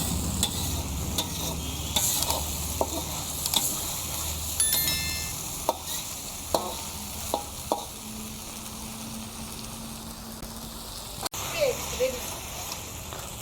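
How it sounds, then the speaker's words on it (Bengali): Potatoes, tomatoes and green chillies sauté in a pan with a steady low sizzle, while a spatula gives scattered clinks and scrapes throughout. "ঝালের জন্য কাঁচা লঙ্কা। কিছুক্ষণের জন্য আমি এটাকে কষিয়ে নেব।"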